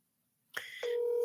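A phone call is dialed, a short electronic tone burst followed by a steady, clear dial or ringback tone holding on, close and alone.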